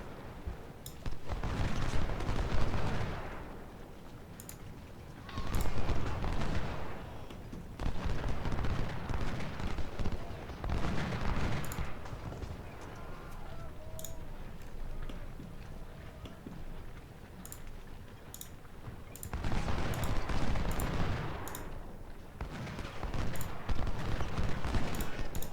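Musket and cannon fire from troops in the Civil War strategy game Ultimate General: Civil War, at the Battle of Iuka. It comes as dense rolling volleys in several loud surges, with steady battle noise between them.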